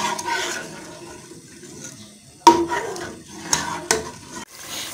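Masala gravy stir-fried in a pan, with a wet bubbling sizzle, a spatula scraping, and a few sharp knocks against the pan, close and moderately loud.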